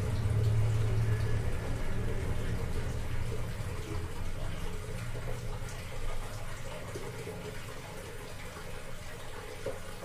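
An LG top-loading washing machine tub filling with water, a continuous rushing and splashing pour heard close up and steady throughout, with faint voices in the room.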